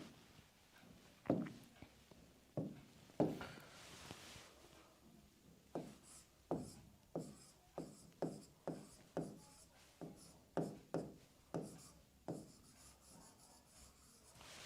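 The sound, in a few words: writing on a board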